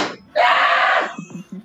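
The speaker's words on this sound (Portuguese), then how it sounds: "dá pra escutar o grito dele daqui" A man lets out a single loud, harsh scream lasting under a second during a live stream, followed by softer low voice sounds.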